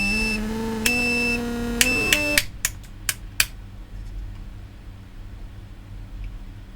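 Steady harmonic buzzing from a DIY transistor tester driven at high current, lasting about two seconds before giving way to a few sharp clicks over quiet background hiss.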